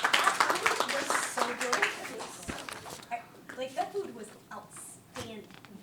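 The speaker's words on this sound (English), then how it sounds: "let's give him a round of applause" Brief scattered clapping from the audience at a school board of trustees meeting, a short burst of applause that fades out, with voices and room noise mixed in.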